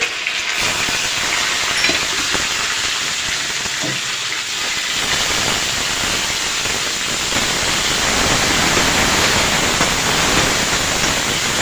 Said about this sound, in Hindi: अब मैं इसमें डाल देती हूँ प्याज,